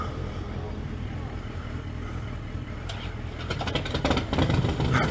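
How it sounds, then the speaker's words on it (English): A Harley-Davidson motorbike riding off along a seafront road, a steady low engine rumble that grows slightly louder and rougher toward the end, heard at a distance amid outdoor noise with no clear speech. "Harley farty bike."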